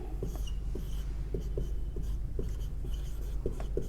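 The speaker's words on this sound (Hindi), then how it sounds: "वही फॉर्मूला फटाफट लिख लेते हैं।" A pen scratches out a formula by hand in quick strokes, a run of short, close scraping marks over a steady low hum, with no talking.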